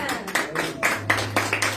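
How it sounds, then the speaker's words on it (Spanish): A church congregation in Biblian, Ecuador clapping together in praise, about seven loud rhythmic claps at a steady beat, close and full, with some voices mixed in. "¿Cuántos le dan ese fuerte aplauso al Señor?"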